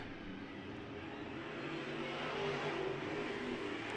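Pro stock cars race on an oval track, and the roar of several engines blends into a steady, distant drone. The sound holds level throughout with no clear pass-by.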